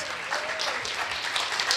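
Steady applause from a crowd, dense clapping filling the whole moment at a moderate, even level, with a faint voice briefly audible underneath.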